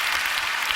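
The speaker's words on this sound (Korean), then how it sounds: "여러분, 박수 한번 크게 쳐주세요." Church audience applause, a dense steady clapping spread evenly through a short burst with no talking.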